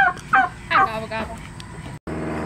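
Turkeys gobble near a horse outdoors, several quick warbling gobbles in the first second, followed by fainter fowl noises and background hum.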